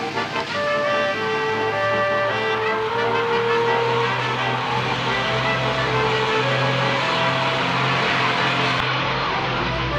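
A small white German sports car engine runs steadily and loudly throughout, with rising and falling revs and a droning tone, no voices.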